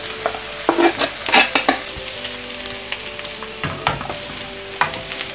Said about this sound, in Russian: Все вместе будем обжаривать где-то 5-6 минут.